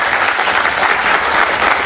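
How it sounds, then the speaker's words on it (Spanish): A TV studio audience applauds a guest's entrance with a loud, close, continuous burst of dense clapping that holds at full strength for the whole two seconds. "un aplauso para ella."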